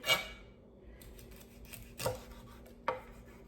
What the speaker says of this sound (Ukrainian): Я буду ось так ножиком нарізати її на такі маленькі кусочки